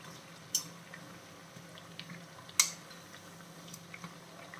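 Raw jackfruit vada deep-frying in oil, a faint bubbling crackle with a few sharp pops, quiet and close, no voices.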